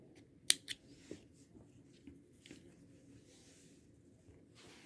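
Scissors snip through knitting yarn, one crisp cut followed by a couple of softer snips, faint and close in an otherwise quiet room.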